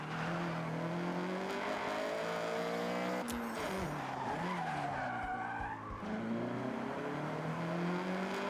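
A Honda CRX in Forza Horizon 6 driven at full throttle toward a bridge, engine note rising and falling with tire squeal and skidding, loud and continuous with no talking.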